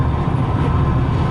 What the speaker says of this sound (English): recordings of trains I took back in 1985 at Horseshoe Curve over in Pennsylvania.